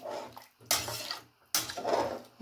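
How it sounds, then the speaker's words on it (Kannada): Water is poured from a tumbler into rice for pulao, three measures of rice to six of water, in two splashing pours separated by brief pauses in a home kitchen. "ನೋಡಿ 6 ಲೋಟ ನೀರು ಹಾಕ್ತಾಯಿದ್ದೀನಿ"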